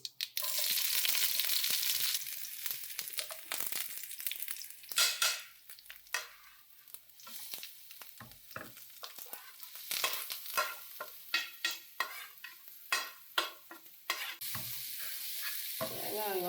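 Onions sizzle in hot oil in a pan, with a continuous bright hiss. Sharp scraping and clattering bursts from stirring break in repeatedly, close and fairly loud, with no talking.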